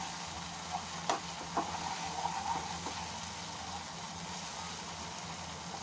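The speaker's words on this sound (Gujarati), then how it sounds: "અંદર આપણે આદુ મરચાં લસણની પેસ્ટ એડ કરીશું। આની પણ થોડું આપણે સાંતળી લઈશું" Ginger, chili and garlic paste sizzles in hot oil in a pan while cooking an okra curry: a soft, continuous frying crackle with a few brief stirring clinks, fairly quiet and with no talking.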